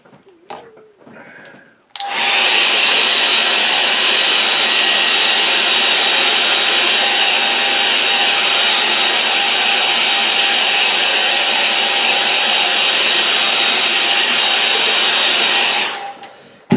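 A hair dryer switches on after a couple of quiet seconds to dry acrylic paint on a snowy hedgerow painting. It blows as a loud, steady whooshing whir for about fourteen seconds, then cuts off.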